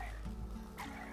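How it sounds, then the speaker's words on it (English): Frogs croak in the Minecraft-based game Hypixel SkyBlock, a loud, close pair of low rasping calls filling about a second with no voices over them. "the frogs especially are so loud."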